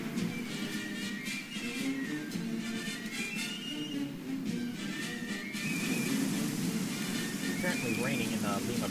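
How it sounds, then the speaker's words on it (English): Steady rain ambience from the video game Hearts of Iron IV, set in Lima, Peru: a continuous broadband hiss of falling rain, fairly loud and even, with a game interface sound or two mixed in and no speech. "Apparently raining in Lima, Peru at the moment."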